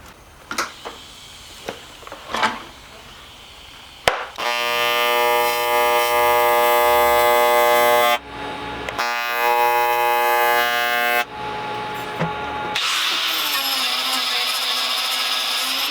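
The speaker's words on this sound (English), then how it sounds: "So, TIG time." A TIG welder at work on a new car body panel for a Clubman, giving a steady electrical buzz in long continuous bursts of several seconds with short breaks between, loud and close, after a few light knocks at the start.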